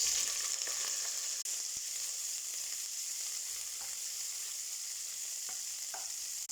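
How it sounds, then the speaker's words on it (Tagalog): Garlic sautéing in hot oil for a chicken dish, a steady close, bright sizzle running throughout with a few faint stirring clicks and taps. "ilagay na natin yung bawang. Yan, maggisa muna natin ang bawang"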